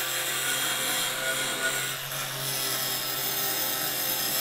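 A POPOMAN cordless angle grinder grinds into a metal bolt with a continuous, loud, harsh abrasive whine that holds steady throughout, briefly dipping midway.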